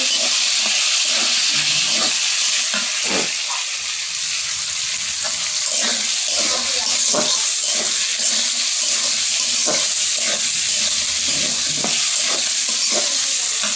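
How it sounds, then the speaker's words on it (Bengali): Potatoes fry in a pan with green chillies, onion and garlic, a loud, close, continuous sizzle broken by repeated scraping stirs, with no talking. "আর এদিকে আমি যে আলু দিয়ে কাঁচামরিচ পেঁয়াজ আর রসুন দিয়ে দিচ্ছি, ভেজে নিচ্ছি।"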